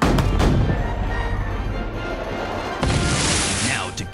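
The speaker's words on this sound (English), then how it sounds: "Prepare all cannons, now! Fire!" Heavy booming blasts of cannon fire in an animated film trailer roll and rumble continuously, with a second loud volley near the end.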